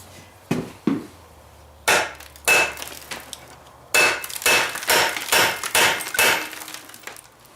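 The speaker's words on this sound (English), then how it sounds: "put the socket on too and then hit the socket" A hammer strikes a metal socket on a seized rear axle of a Honda CRF110F roughly a dozen times. The sharp, loud blows start sparse, then come in a quicker, irregular run.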